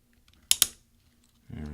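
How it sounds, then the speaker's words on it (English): A 13-inch MacBook Pro Unibody keyboard key is pushed off its plastic scissor hinge, giving two sharp close clicks in quick succession, followed by a voice starting to speak. "we're going to take this key and push it to the right"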